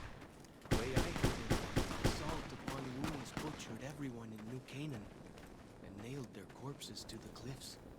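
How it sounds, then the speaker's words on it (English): Gunfire in the video game Fallout New Vegas, a run of sharp shots early on, then further scattered shots while someone talks over them. "Dude, I'm hearing these gunshots everywhere."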